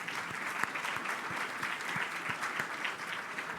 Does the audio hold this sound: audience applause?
yes